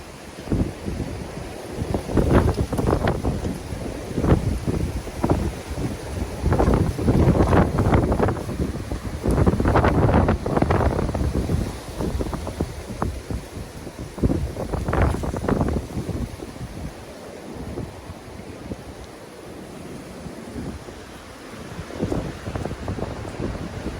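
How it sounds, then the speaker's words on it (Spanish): Strong wind gusts battering a hot tent at a backyard campsite, several loud surging blasts of flapping and rushing air rising and falling over about twenty seconds, with no voices. "ráfaga."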